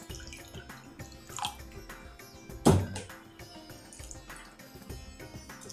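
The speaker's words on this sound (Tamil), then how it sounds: "இன்னொரு அரை கப்பு தண்ணி விடணும்." Water poured from a half cup into rava paniyaram batter made with yogurt, a short splashing pour midway amid faint drips and kitchen clatter, close and quiet.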